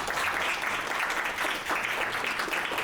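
Applause from an audience welcoming a guest speaker at a healthcare administration evening event, a full, steady round of clapping that briefly dips midway before swelling again.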